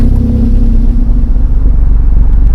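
A freshly restored vehicle's engine rumbles steadily and loudly right after being started, with a deep continuous low idle throughout and no talking.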